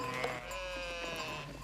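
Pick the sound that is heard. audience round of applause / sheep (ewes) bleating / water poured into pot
sheep (ewes) bleating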